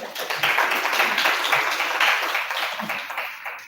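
A group applauds during an online facilitated dialogue training session. A short, dense burst of clapping holds steady for a few seconds before easing off, with faint voices mixed in.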